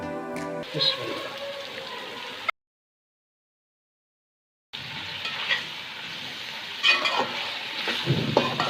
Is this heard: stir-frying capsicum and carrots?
yes